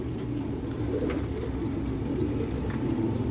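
Racing pigeon cooing softly, a male offered for sale, low repeated throaty coos close by over a steady background murmur, with no talk.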